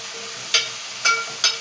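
Food frying in a pan over a steady, fairly loud hiss, with three brief scraping stirs standing out at intervals; no voices.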